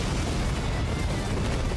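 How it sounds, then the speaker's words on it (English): Explosions in the shoot-'em-up video game Raiden V, a dense, continuous wash of booming blasts and gunfire filling the short stretch at steady loudness with no pauses. "Watch out for explosions."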